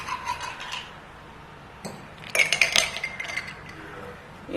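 Ice cubes clink and rattle into a glass of tamarind and plum sharbat, a cluster of bright glassy knocks mid-clip after a few softer clinks, close and fairly quiet.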